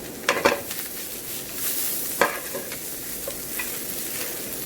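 Chopped ginger sizzling and being stirred in a hot pan for eggplant bharta, a steady soft frying hiss broken by a few sharp scraping clicks of the spoon against the pan, no talking.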